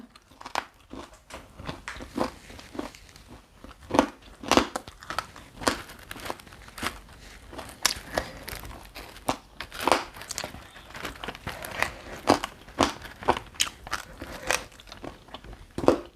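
Crunchy, close-up chewing on spicy beef laab with plenty of tripe and crispy pork, with bite after bite of crackling, crinkly crunches in a steady, uneven rhythm and no talking.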